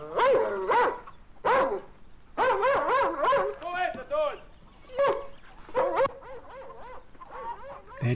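A dog barks repeatedly in short, sharp bursts, some single and some in quick runs of three or four, with brief pauses between. The barks sound fairly close and loud.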